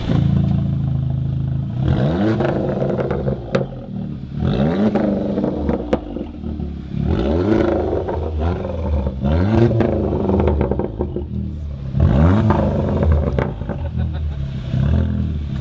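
A car with an open aftermarket exhaust revving repeatedly, a series of loud throttle blips rising and falling in pitch with crackling pops between them, heard close up inside the car.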